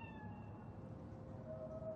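A cat meows in Cyberpunk 2077 against a steady low ambient hum, the tonal cry drawn out and fairly quiet, with no one talking.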